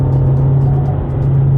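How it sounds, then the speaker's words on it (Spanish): Steady engine drone with a strong low hum, sustained and loud throughout, from a 2026 KIA Sportage MHEV 136 hp diesel GT-Line accelerating at full throttle, with a muffled cabin feel. "Aquí aceleramos a fondo"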